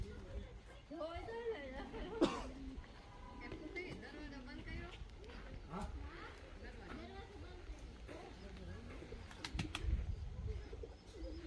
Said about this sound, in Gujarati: કબૂતર તો જો કેવા મસ્ત